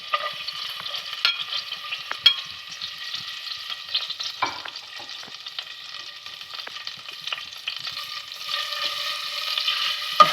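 Chopped onions sizzle and crackle steadily in a small amount of hot oil for a chicken paratha roll, with occasional sharp stirring clicks and scrapes over the continuous frying hiss.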